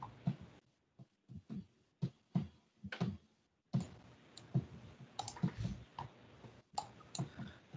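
A computer mouse clicks repeatedly, sharp close clicks arriving in irregular bursts over a quiet background.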